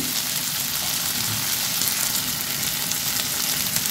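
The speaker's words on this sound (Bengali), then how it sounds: "এটা একটু ভালো করে নেড়ে ছেড়ে নেব।" Diced potatoes fry in hot mustard oil in a pan, giving a loud, steady sizzle with faint scraping as they are stirred, close up and with no talk.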